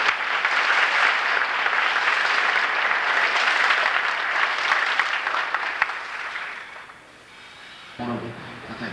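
Audience applause fills a band banquet at a high school, steady and dense for about seven seconds before thinning and fading, with a brief sound at the end.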